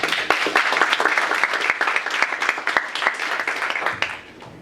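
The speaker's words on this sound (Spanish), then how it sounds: "Recibámoslo con un fuerte aplauso" Applause from a lecture audience welcoming a speaker at a physics week event, a lively burst of many hands with distinct sharp claps standing out, holding steady before quickly dying away at the end.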